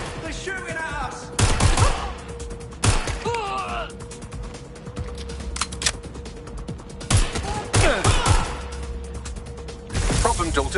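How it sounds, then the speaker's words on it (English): Enemy gunfire in Watch Dogs Legion comes as rattling automatic bursts and sharp shots, loud and close, amid mechanical clicking and game effects, with a voice speaking at times. "They're shooting at us"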